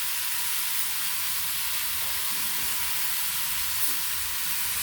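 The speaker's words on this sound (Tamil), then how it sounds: "இது நல்லா தக்காளி வதக்கிற வரைக்கும் நல்லா சுருள வதங்கணும்." Tomatoes sautéing in a pan with green chillies, chilli powder and salt give off a steady, even, close sizzling hiss that keeps up without a break.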